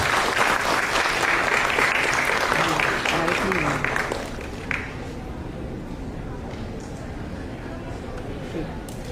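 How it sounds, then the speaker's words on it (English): An audience applauds at an actuarial institute event, loud clapping for about four seconds that then drops away to quieter room sound with faint scattered claps and some talk. "Applause, audience."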